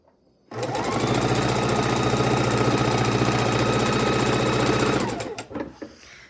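A sewing machine stitches fabric scraps together for a quilt in one fast, even, rattling run of about five seconds, close and loud, then slows and stops.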